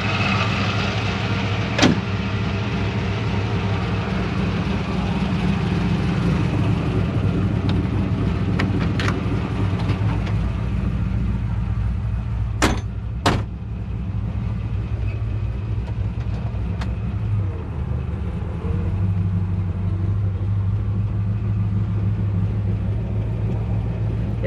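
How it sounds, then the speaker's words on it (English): A 1968 Chevy C10 truck with big mufflers drives along, its engine a low, steady rumble heard from inside the cab, subdued rather than loud, with a few sharp clicks and no talk. "it's like we put big giant mufflers on it, and when you're in it and driving, it's not loud."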